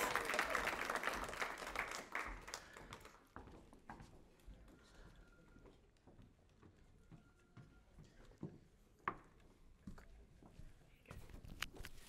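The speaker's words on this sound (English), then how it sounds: "Can we make another round of applause," Audience applause at a Congolese independence day celebration: a loud burst of clapping at the start that quickly dies away, followed by scattered claps, shuffling and a murmuring crowd.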